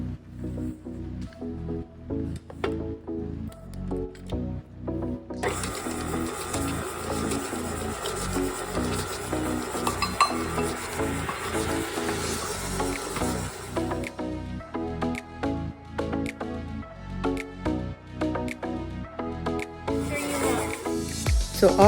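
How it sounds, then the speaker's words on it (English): Butter, vegetable oil and sugar being creamed for a Chantilly cake, heard as a steady rhythmic rubbing and scraping with a louder whirring stretch in the middle, with some faint talk. "So I'm going to get ready to cream my 2 sticks of butter, my 1 tablespoon of vegetable oil, and 2 1/4 cups of sugar"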